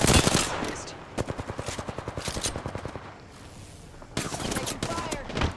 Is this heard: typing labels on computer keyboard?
no